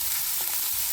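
Chopped onions fry in a pan with a steady, close hiss of fine crackling that holds evenly through the short moment, with a couple of faint stirring scrapes.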